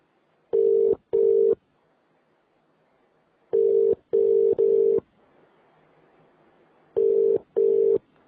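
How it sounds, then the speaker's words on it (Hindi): A phone call rings out over the line in a repeating double-burst ringback tone, three pairs of steady buzzing beeps with quiet gaps between, close and clear, with no talk. "लाइन पे रुको, रफी साहब को मार रहा हूँ फोन"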